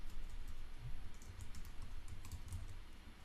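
Typing on a computer keyboard while filling in a sign-up form, heard as a soft, steady run of light key clicks close to the microphone, with no talking.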